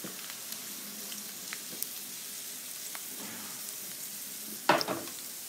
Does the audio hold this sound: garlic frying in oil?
yes